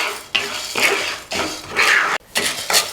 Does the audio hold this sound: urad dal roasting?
yes